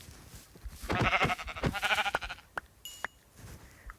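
Minecraft sheep bleat loudly twice in a row, wavering calls, followed by a few short clicks and a faint high tone.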